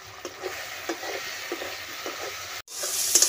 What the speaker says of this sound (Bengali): কেটে রাখা টমেটো দিয়ে দিচ্ছি। অল্প একটু লবণ দিয়ে দিচ্ছি, টমেটোটা তাড়াতাড়ি ভাজা হয়ে যাবে।